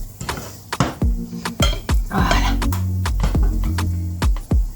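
Protein patties dropped one after another into a small frying pan, giving a series of sharp clinks and thuds against the metal with brief sizzle between them, close and fairly loud.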